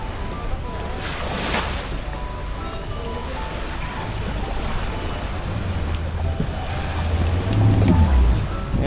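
Sea waves wash steadily while people board a boat at a Philippine beach resort, a continuous broadband surge with wind rumble, growing louder near the end, with no talk.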